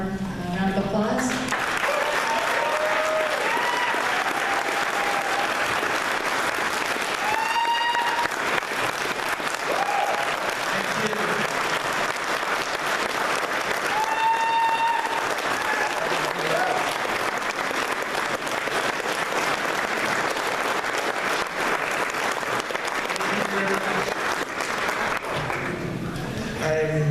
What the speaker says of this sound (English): So please give Lauren a warm round of applause.